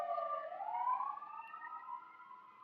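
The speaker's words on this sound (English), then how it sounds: "Sorry, I just want the siren to pass." A wailing siren passes at a moderate distance, its tone sweeping steadily up and holding high, alone with no talking.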